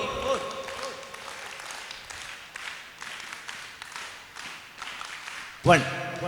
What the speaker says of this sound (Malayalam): ഒന്നുകൂടി ക്ലാപ്പ് ചെയ്യേ